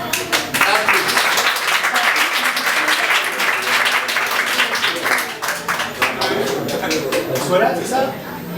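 A studio audience applauds on a live television show set, a dense, steady wash of clapping that holds for several seconds with slight swells and no break.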